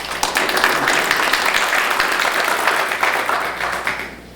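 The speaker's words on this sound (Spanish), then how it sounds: "recibamos con un fuerte aplauso al maestro Eduardo Esquivel" Audience at an academic congress in Mexico City applauding to welcome a speaker, steady dense clapping for about four seconds that fades at the end.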